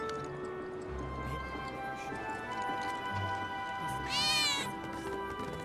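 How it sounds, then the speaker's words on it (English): A cat in the video game Final Fantasy VII Remake gives a single clear meow near the end, rising above a constant ambient town hum with faint low thuds. "I swear I just heard a cat."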